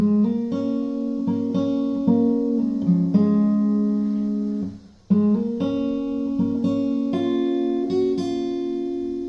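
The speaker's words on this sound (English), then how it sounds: "So altogether, this little riff sounds like this." A short guitar riff played clearly, with plucked notes repeating in a simple pattern, a brief pause midway, then the phrase returning.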